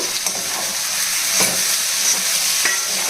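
A spoon stirs brinjal and prawn curry in a pan, with a loud, steady sizzle and hiss and a few soft scraping knocks of the spoon along the way.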